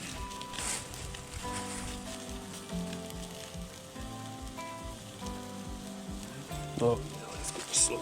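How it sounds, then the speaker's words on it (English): Steaks sizzling on a grill at a fall campsite, a steady crackling hiss of fat frying that runs close and even throughout, with a few sharper pops and faint clinks near the end. "Just a little bit of sizzle"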